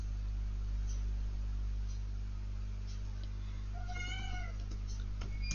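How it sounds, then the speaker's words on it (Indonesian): A cat meows once or twice, fairly faint, over a constant electrical hum and steady background hiss in an indoor room. "udah ada kucing."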